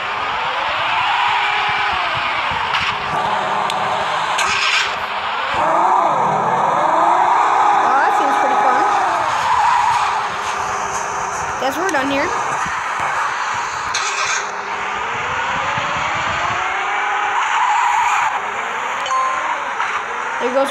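A construction vehicle drives and skids in the video game Construction Crew 3D. A steady engine drone runs throughout, with tyre squeals and clanks, and someone talks over it.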